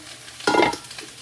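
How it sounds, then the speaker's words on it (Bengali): A single brief stir or scrape in a pan of spinach cooking with sweet potato and potato, one short soft burst of sizzling and rustling over quiet background. "বন্ধুরা এখানে আমি পালং শাক রান্না করছি শাকের মধ্যে দিয়েছি মিষ্টি আলু আর এমনি আলু"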